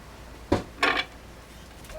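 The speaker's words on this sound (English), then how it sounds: "Just go ahead and scrape it right out into your bowl." Baked sweet potato flesh being scraped out of its skin into a bowl, with two short scraping strokes, the second longer, in a quiet kitchen.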